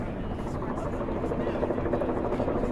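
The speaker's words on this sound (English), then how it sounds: "and one helicopter today." A helicopter flies over a Manhattan street protest in New York City, its steady rotor drone continuous and fairly loud beneath crowd noise and voices for the whole stretch.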